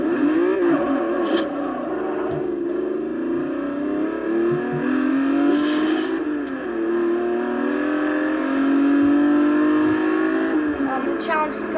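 A loud car engine in the racing game Forza Horizon 2 revs and holds a droning, rising and falling tone throughout, with a brief whoosh near the end.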